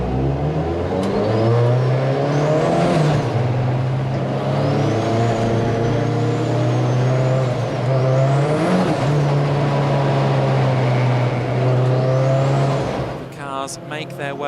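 Thunder saloon race cars, including an Audi A3, roll around Clark Curve at Brands Hatch on a formation lap, a loud close engine drone rising and falling as revs change, sustained for the whole stretch.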